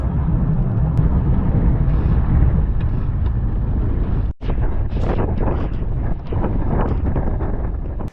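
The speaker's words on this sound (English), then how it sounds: "The wind has been gusty and strong and has made for a really fun sail." Strong, gusty wind roars loudly across the microphone on a small sailboat under way, a constant heavy rumble with a brief drop midway and lighter buffeting after.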